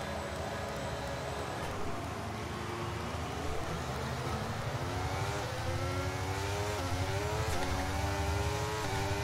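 Formula 1 cars roaring off the grid at a race start in the F1 23 video game, a dense engine wail with rising revs climbing steadily as the pack accelerates, loud and continuous.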